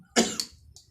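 A single sharp cough bursts out close by, followed by a smaller second hack and a faint trailing breath, with nothing else around it.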